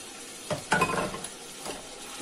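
Lean pork sautéing in hot oil inside a Mambo cooking machine jug with its mixing paddle turning. A soft, steady sizzle with brief stirring scrapes, heard faintly and close with no talk.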